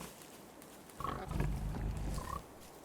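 Pig grunts from Don't Starve Together: a short burst of low snorting oinks over roughly a second and a half, moderately close, then quiet game ambience.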